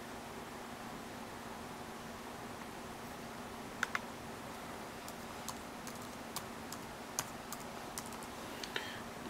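Computer keyboard typing in a quiet room, a few sparse crisp key clicks spread over several seconds against a constant fan-like hiss, no voices.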